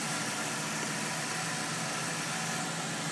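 A 2000 Ford Crown Victoria sedan idles close by while backing up. The engine gives a steady, even hum with a little vibration and no voices over it.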